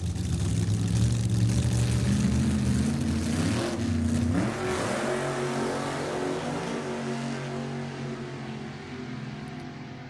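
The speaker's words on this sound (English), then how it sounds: "First 2 cars qualifying for the first qualified category for our first big race" Nostalgia drag race cars launch during NHRA qualifying, a loud engine roar that climbs in pitch and then fades into the distance, leaving a fainter rumble behind.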